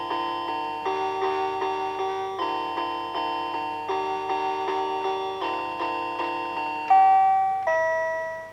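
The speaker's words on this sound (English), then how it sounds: "that sounds like a doorbell" Bright, bell-like chimes ring out in a steady repeating pattern of sustained tones, ending on two louder, longer notes that fade away, like a doorbell.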